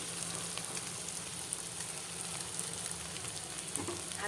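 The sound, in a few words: spices frying and being stirred in a pan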